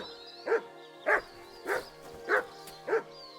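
Mutt, a dog in Kingdom Come: Deliverance II, gives five evenly spaced barks at a steady rhythm, close and clear over a soft background hum.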